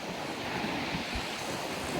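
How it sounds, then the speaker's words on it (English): Ocean waves and wind at the shore, a broad, steady wash of surf with gusty wind buffeting the microphone, with a couple of low thumps. "coming down here to this ocean and this nice wind"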